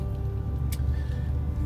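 Steady low road rumble from a Ford F-150 Tremor pickup truck driving along, with a brief broadband swish partway through and no talking.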